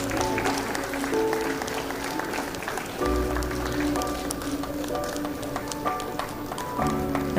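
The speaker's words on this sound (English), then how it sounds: "A big round of applause for everybody" A convocation audience claps steadily for the full stretch, with dense, sustained applause and faint background music tones running beneath it.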